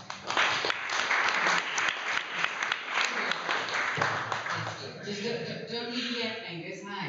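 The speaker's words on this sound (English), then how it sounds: "Warm applause." Warm audience applause fills a meetup room, a dense, steady wash of clapping that tapers off near the end as a voice begins talking.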